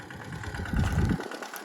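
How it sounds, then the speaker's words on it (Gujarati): A tractor engine runs steadily while pulling a harrow through a farm field, its low rumble growing louder and rougher midway before dropping off sharply near the end. "તો જોઈ શકો છો તમે આપણું ટ્રેક્ટર દાંતી હાંકી રહ્યા છે"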